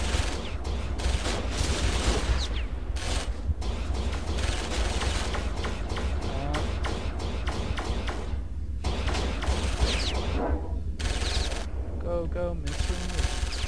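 Missiles and weapons fire in a space battle in the video game Starsector, a dense, continuous stream of loud rapid blasts and thumps with brief gaps.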